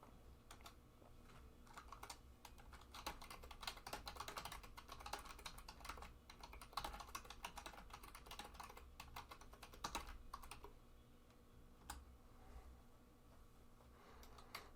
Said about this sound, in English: So I'll just type that in.